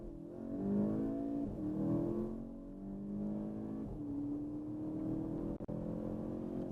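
A 2017 VW GTI with a 2.0 turbo engine and DSG gearbox accelerating from inside the car, engine tone climbing steadily through gears with brief drops at each shift, steady and moderately loud.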